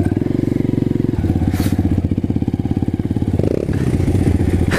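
A 100 motorcycle engine runs steadily close by, its buzzing tone holding with small shifts in pitch and a few clattery knocks, loud throughout with no talking over it.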